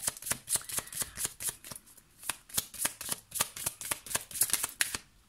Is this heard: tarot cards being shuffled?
yes